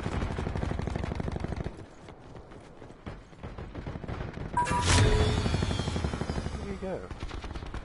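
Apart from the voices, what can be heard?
S6 Stingray gun firing in a video game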